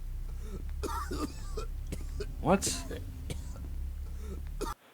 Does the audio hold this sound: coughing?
yes